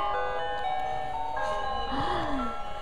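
Several tinny electronic melodies play at once in a jumble of chimes and tunes, loud and continuous, with a faint voice briefly underneath.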